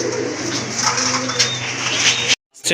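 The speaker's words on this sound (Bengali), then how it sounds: "আপনারা দেখতে পাচ্ছেন এক জোড়া কবুতর, এটা হচ্ছে রাজগোল্লা কবুতর, রেড ইন্ডিগো কালার।" A pair of red indigo Rajgolla pigeons, heard close by with soft, steady cooing and low murmuring for a couple of seconds before a brief drop-out near the end.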